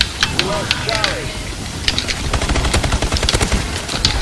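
Rapid bursts of ASM1 submachine gun fire in Call of Duty: Advanced Warfare multiplayer, with sharp repeated shots that grow denser toward the end, mixed with other battlefield gunfire and game announcer voices.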